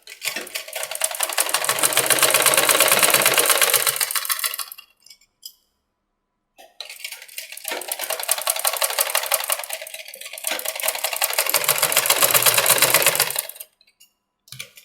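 A sewing machine stitches a size 34 three-piece princess-cut blouse, running loud and close in two long bursts of fast, even stitching separated by a brief pause, with a short final run at the end.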